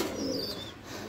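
Pigeons coo inside a loft in Rajshahi, a soft low murmur with a faint higher call above, continuous and moderately near over a brief stretch.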